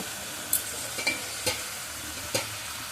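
Soaked moong dal being sprinkled into a pan with turmeric and stirred for a bottle gourd curry, giving a low steady sizzle broken by four or five short scraping stirs of the spoon.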